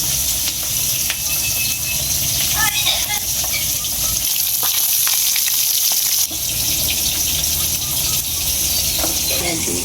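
Food frying in hot oil in a home kitchen, a steady broadband sizzle running throughout with occasional clinks and a brief quieter dip midway, while people talk nearby.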